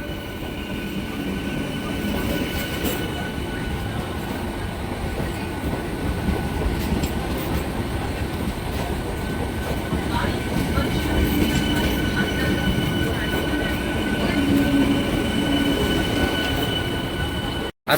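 A Ranaghat–Shantipur–Krishnanagar local train pulls out of Ranaghat station with a continuous rumble of rolling wagons and wheels, brief squeals on the rails and a clattering rhythm that builds slightly toward the end.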